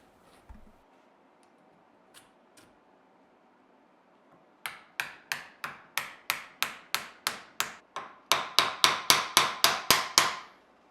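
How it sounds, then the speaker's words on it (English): Hammer driving a handle and ferrules onto a stainless san mai dagger blade: a couple of faint early taps, then a steady run of sharp, ringing blows, growing louder and faster toward the end. "I glued on the ferrules and then drove the handle and the ferrules onto the blade"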